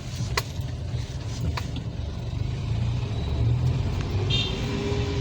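A manual-transmission car in first gear rolls over a speed breaker on a narrow street, giving a steady low engine drone from inside the cabin with a few faint knocks and light road noise, no talk.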